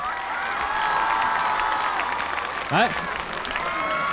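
Studio audience applause and cheering for a tribe after a fiery stage performance on a music competition show, sustained crowd clapping with a host briefly speaking over it.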